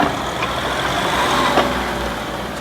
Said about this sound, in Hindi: मैं स्टार्ट करता हूँ गाड़ी